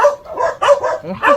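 A young Rottweiler-type puppy, in a Belgian Malinois household, gives a quick series of close, loud yappy barks in about four bursts, with nobody speaking.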